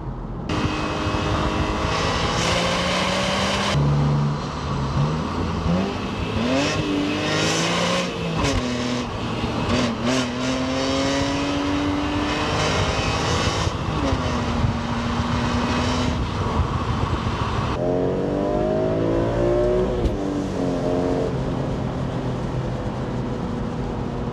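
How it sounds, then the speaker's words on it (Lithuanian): A BMW M3 E46 with its S54 engine, which revs to 8000 rpm, climbs and falls through repeated loud, close revs, its pitch sweeping up and down with sharp shifts and steady throttle blips. "Ir S54 variklis turi sūkių iki 8000 apsukų. Tai garsas tikrai malonus ausiai."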